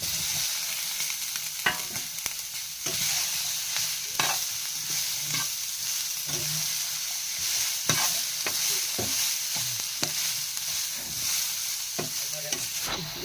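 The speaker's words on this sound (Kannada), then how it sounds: "ಈಗ ಎಣ್ಣೆ ಹಾಕಿ ಸ್ವಲ್ಪ ಮಿಕ್ಸ್ ಮಾಡಿ ಈ ಥರ ಮಿಕ್ಸ್ ಮಾಡಿಕೊಂಡು ಈಗ ಟೊಮೆಟೊನ ಹಾಕೊಂಡ್ರಿ ಟೊಮೆಟೊ" Tomatoes sizzle and fry in hot oil in a home kitchen pan, with a spoon stirring and scraping repeatedly throughout; steady close crackle with no talking.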